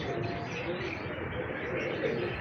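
Pigeons of a prized fancy breed cooing steadily up close in a loft, a continuous soft murmur of calls with a voice talking faintly underneath.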